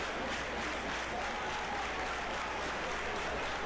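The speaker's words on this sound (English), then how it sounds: "Crowd is locked in." A wrestling crowd applauds steadily at a Samoa Joe vs Kenta Kobashi match, a dense wash of clapping heard from a distance at a moderate level with no voices on top.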